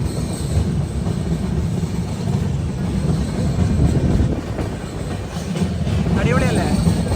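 The Aronai Express crosses the rail bridge over the Ganga at Farakka with a loud, steady rumble of wagons and rattling wheels, a faint squeal rising near the end.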